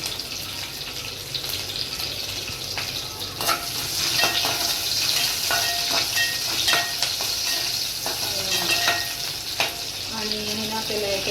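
Green chilies sizzle in hot oil with cumin seeds and curry leaves as a tempering for sabudana khichdi, a steady close frying hiss with occasional pops and stirring.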